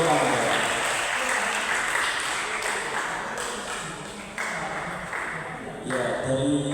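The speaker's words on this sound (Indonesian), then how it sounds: "Kita tepuk tangan." Students at a vocational high school anti-violence and anti-drug outreach session applaud steadily in a hall, a broad wash of clapping that dips and swells again, with voices and a ringing ping heard alongside.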